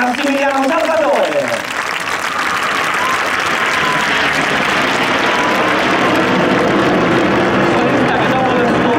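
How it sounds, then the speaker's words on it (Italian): A large outdoor crowd at the Jesolo air show applauds the Frecce Tricolori solo pilot, sustained loud clapping over a public-address voice that fades early, with a broad roar of crowd and wind behind. "Facciamo un grande applauso al nostro solista alla prima stagione"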